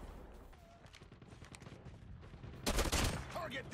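Burst-fire gun shooting in COD Mobile during a Hardpoint match, with scattered faint shots and then a louder, dense volley near the end.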